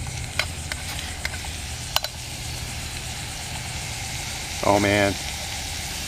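Bacon frying in a canteen cup gives a steady low sizzle with a few sharp clicks and pops, and a brief spoken exclamation comes near the end.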